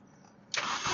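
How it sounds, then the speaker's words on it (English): A Mini Cooper S R53 fires up on a jump pack: quiet hiss at first, then a sudden loud broadband burst as the engine catches halfway through and keeps running close by. "Okay, jump pack connected. Let's try and start now."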